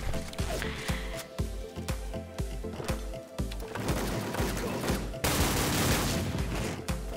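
Rapid gunfire bursts from a shotgun and other weapons in the online shooter WolfTeam, dense and loud, with repeated sharp blasts over a continuous game soundscape.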